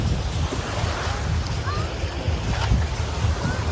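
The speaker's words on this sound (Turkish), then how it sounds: "Şimdi dalga havuzuna giriş yapıyoruz." Waves in a water park wave pool give a steady, loud wash of churning water and rushing noise, with wind buffeting the microphone throughout.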